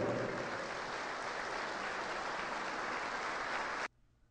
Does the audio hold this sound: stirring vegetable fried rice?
no